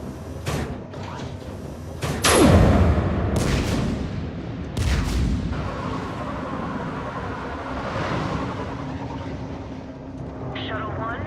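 Heavy guns firing in the sci-fi shooter Mass Effect 3, booming blasts and rumbling impacts over a battle din, with voices talking across the clip.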